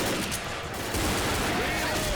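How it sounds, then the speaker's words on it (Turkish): Rapid gunfire from weapons in the zombie shooter game Left 4 Dead, dense bursts of shots running through the whole stretch with a player talking over them. "şu bu silah sesine hiçbir zombi gelmiyor mu"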